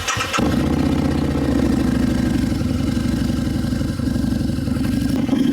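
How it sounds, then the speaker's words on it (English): A 2014 Harley-Davidson V-Rod Muscle motorcycle engine cranks and catches, then settles into a steady, loud, close idle with a rhythmic low throb that continues unbroken. "now I'm gonna start up the motor and let it warm up for a couple minutes"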